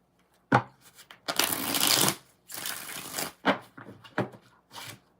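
Tarot cards are shuffled by hand in several short riffling bursts, close and crisp, with brief pauses between them.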